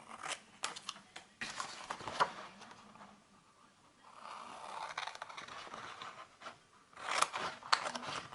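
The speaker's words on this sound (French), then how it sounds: "Et maintenant, on va découper au ciseau tout ce qu'on a en trop." Scissors cut through scrapbook paper for a rose gold album, making quiet crisp snips and scraping rustles in irregular bursts, close but faint.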